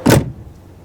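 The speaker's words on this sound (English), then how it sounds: "And shut the door!" A door is pushed shut with a single short, loud thud, followed by a brief fading rumble and then quiet.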